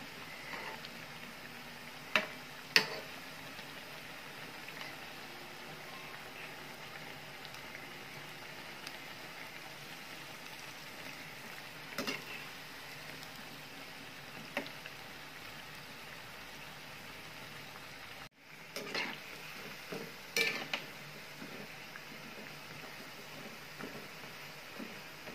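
Cabbage fritters (kobiche bhaje) deep-fry in hot oil, a steady soft crackling bubble throughout with occasional sharper pops and clinks as they are turned until golden.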